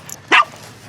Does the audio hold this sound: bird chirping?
no